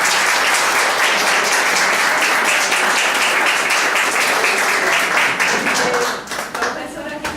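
Sustained, dense applause fills a hall at a Women's Day gathering as the audience honours a female deputy after her talk, steady and loud before thinning out near the end.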